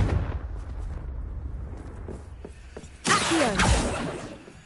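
A Confringo fire spell blast in Hogwarts Legacy, a video game: low rumbling battle noise, then a loud, sudden explosive burst that swells and fades over about a second and a half.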